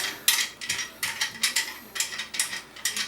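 Bathroom faucet parts unscrewed by hand, giving a steady run of close, crisp ratcheting clicks in short repeated bursts, with no voices.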